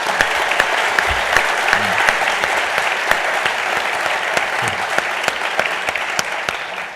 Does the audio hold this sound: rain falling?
no